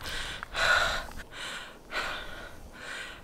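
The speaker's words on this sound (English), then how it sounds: "As I catch my breath" Heavy panting after a hike on a Joshua Tree National Park trail near Jumbo Rocks Campground, four or five breathy gasps in an uneven rhythm, close and loud with short pauses between breaths.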